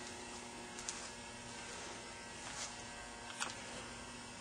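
A rebuilt Leybold Trivac D16B rotary vane vacuum pump runs with a steady, even mechanical buzz and hum, close and unchanging, with a few faint clicks.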